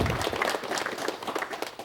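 A Korean television studio audience applauds table tennis players being introduced, a brief burst of many hands clapping, fairly quiet and slightly muffled, fading within two seconds.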